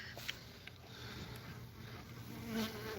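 Bees buzz steadily around an opened beehive with few bees and a queen protecting brood cells, a soft continuous drone close by with small knocks and no talk.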